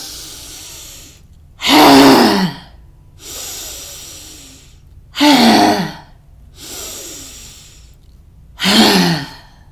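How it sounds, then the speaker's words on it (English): Yoga breathing in a strength class: three loud, forceful, breathy exhales with the tongue out, each following a quieter, drawn-out deep inhale, close to the mic with no speech. "So it's a deep inhale in, aha, out with the tongue out."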